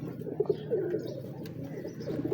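Breeder pigeons coo in soft, low repeated bursts, close by, with a steady murmur of birds behind them and no talking.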